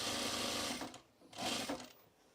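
Sewing machine back stitching through four layers of a fabric bowl cozy, a close whirring burst that stops briefly and then starts again in a second short run.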